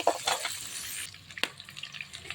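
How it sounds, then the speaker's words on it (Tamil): Onions and green chillies frying in oil for an egg gravy, heard as brief, faint sizzling with a few stirring scrapes and no speech. "இப்போ வெங்காயமும் பச்சை மிளகாயும் போட்டு நல்லா தாளிச்சுக்கிட்டு இருக்கேங்க"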